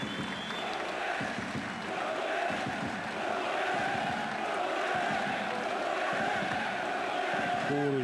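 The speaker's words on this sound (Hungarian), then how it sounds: "Kórusban skandálja Dragoner nevét, a közönség" A large stadium crowd at a Ferencváros versus Lombard Pápa football match chants a player's name in chorus, a steady roaring mass of voices with rhythmic swells, while a commentator talks over it.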